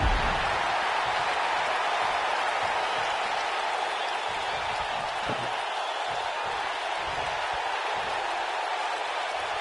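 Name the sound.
wrestling crowd cheering and applauding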